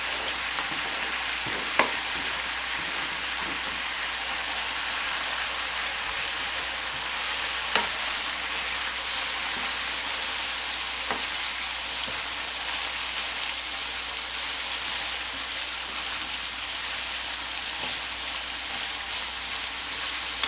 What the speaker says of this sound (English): I'm going to add my onion in now.